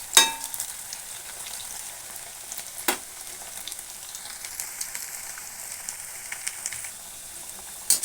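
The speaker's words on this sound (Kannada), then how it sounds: "ಎಲ್ಲ ಆಲೂಗಡ್ಡೆನೂ ಹಾಕ್ತೀನಿ ಫ್ರೈ ಮಾಡ್ಕೊಳ್ಳೋಕ್ಕೆ." Potatoes frying in oil in a pan for a home-style potato gravy, a steady close sizzle with faint crackles and a couple of sharper stir clicks, no voices.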